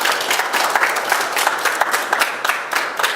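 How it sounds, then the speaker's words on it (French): Loud, sustained audience applause at a French sports draw ceremony, many hands clapping densely and continuously from start to end. "Et ça s'applaudit très très fort."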